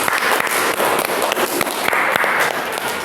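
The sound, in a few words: applause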